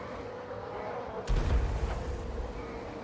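Hellcannon artillery firing during a siege in Total War: Warhammer III, a single deep booming blast about a second in, with a long rumbling tail, and a player talking around it.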